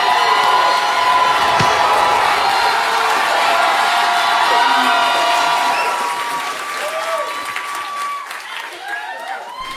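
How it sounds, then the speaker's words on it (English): A studio audience claps and cheers loudly and steadily throughout, a dense wash of applause with whoops that tapers slightly toward the end as the host introduces a guest. "Make some noise for Josh Johnson!"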